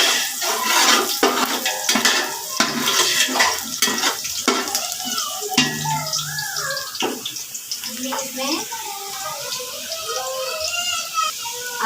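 Oil and onions cooking in a large pot for a 6 kg Karachi-style biryani: metal spoon scraping and clanking against the pot over a sizzling hiss, close and busy, with someone talking partway through.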